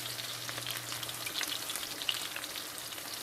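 Thin butter slices melting on swai fillets in a frying pan give a soft, continuous crackling sizzle, fairly quiet and close, with scattered small pops.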